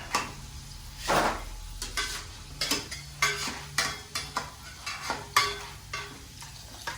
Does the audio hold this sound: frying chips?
yes